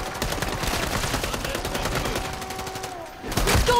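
Sustained automatic gunfire in Modern Warfare Zombies, a dense, loud rattle of rapid shots running nearly throughout, with a brief dip before heavier blasts at the end.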